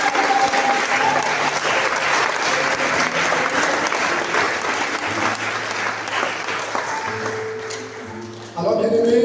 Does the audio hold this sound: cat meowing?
no